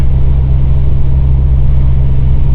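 Ford V10 engine in an Econoline van towing up a slight freeway incline at low RPM in overdrive, a loud steady low-pitched drone and rumble with no change in pitch throughout.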